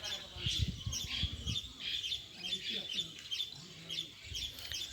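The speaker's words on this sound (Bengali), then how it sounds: "আর এখানে দেখো অনেক বদরি আছে নিচে এইখানটায়" Many budgerigars chirp and squawk continuously in a busy chatter, with low murmuring voices now and then beneath them, at Adina Forest in Malda.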